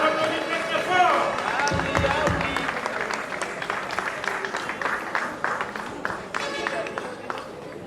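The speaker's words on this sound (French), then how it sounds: "On applaudit très très fort." An audience applauds the Minister of Culture at a ceremony handing out health insurance cards to actors, with dense clapping that stays steady and then thins into scattered claps. Voices and talk run underneath.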